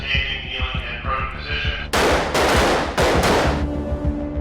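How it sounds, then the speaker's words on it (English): Gunfire crackles at a police academy firing range, sharp overlapping shots bursting loudly after a stretch of music-like tonal sound, then continuing in dense volleys. "Recruits spend hours on the firing range."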